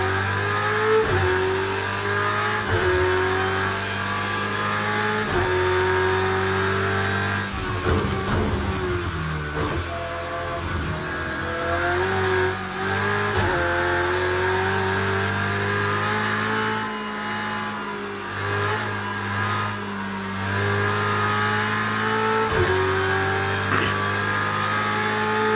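GT3 race cars in a Project Cars 2 multiplayer race starting on cold tyres: a steady, loud engine drone climbs and drops through repeated gear shifts, with harmonics rising in sweeps as the cars accelerate.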